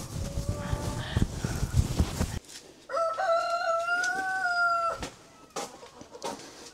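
Red chickens squawk and a rooster crows on a farm as they are caught for fowl pox vaccination; loud close clucking gives way to a long drawn-out crow with more flapping and squawks after.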